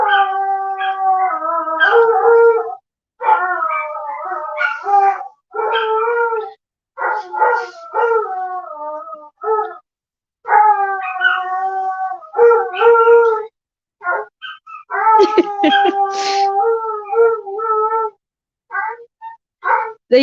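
Several dogs howl together at home after the owners leave, long wavering howls rising and falling in repeated bursts with short pauses, loud and close, with no talking over them.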